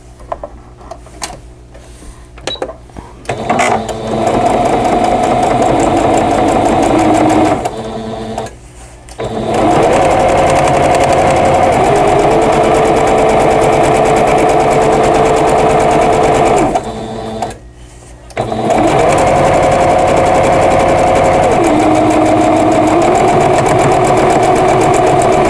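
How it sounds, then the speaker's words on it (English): Sewing machine stitching quilt table topper blocks together, a loud steady mechanical whir running in long bursts with brief pauses between seams. "So I'm going to sew this on and then sew this to the next block"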